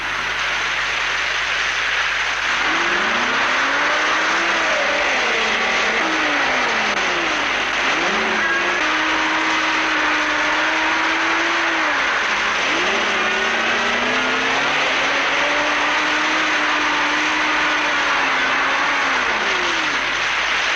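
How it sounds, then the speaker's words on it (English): A 1972 Land Rover engine labours steadily through a deep, muddy wet-season track in Cape York, its revs rising and falling in long sweeps as it pushes through, loud and close with constant wind and mechanical noise throughout. "My vehicle has churned the mud up so much, it leaves little hope of the heavier one getting through."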